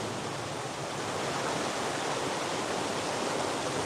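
A creek rushes downstream in a steady broadband roar of flowing water, constant and moderately faint, with no voices over it.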